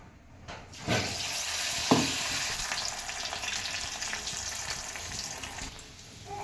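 Stuffed rolls made with small shrimp sizzle in hot oil, a close and steady frying hiss that starts with a few sharp splashes, then holds and fades slightly toward the end.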